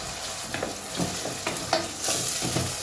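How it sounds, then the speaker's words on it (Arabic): Chopped onions frying in about 80 ml of hot oil in a pan for a Tunisian green fava bean and pepper shakshuka, a steady close sizzle broken by a few scraping stirs. "باش نحط عليهم البصل، نخليه يتقلى بالباهي"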